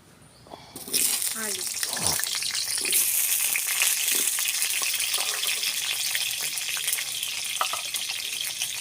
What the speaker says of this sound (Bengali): আমি এবার আলুটা ভালো করে ভেজে নিই